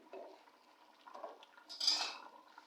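Vegetable pulao rice being mixed in a pot with a spoon, with a few soft scraping and clinking strokes of metal against the pot, close and quiet, the loudest scrape coming near the end.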